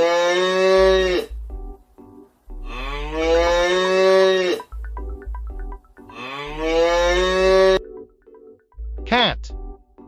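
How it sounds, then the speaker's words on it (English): A cow moos twice in long, loud, drawn-out calls, each followed by a short pause, with a brief higher sound near the end and a steady backing tone underneath. "Cow."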